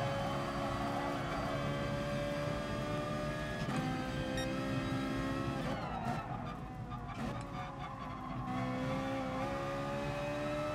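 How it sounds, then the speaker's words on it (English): A Ferrari Group 4 race car in the racing game GT Sport drones loudly with a continuous engine note that rises and falls through gear changes, with brief tire squeal mid-run and no talking. "One thing I love about this car, the Ferrari Group 4 car, is the engine noise."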